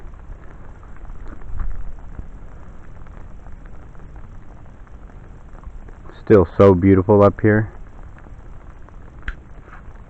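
Steady rain falling outdoors at a summer camp during a thunderstorm, a soft continuous patter, with a person speaking briefly partway through.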